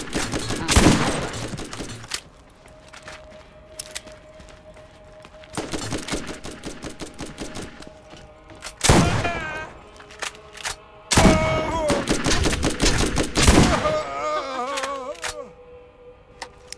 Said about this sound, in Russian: Уже стреляю!